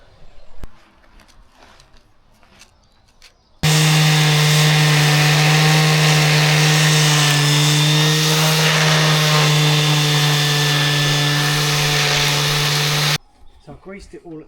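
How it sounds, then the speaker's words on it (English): A power sander grinds down a fresh weld before repainting, starting abruptly and running loud and steady for about ten seconds with a strong droning tone, then cutting off. Quieter handling sounds come before and after. "I'm going to sand this down and repaint it."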